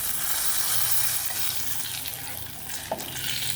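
Chillies and curry leaves fry in hot oil for a South Indian raw mango dish, giving a steady, fairly loud sizzling hiss with a faint clink partway through.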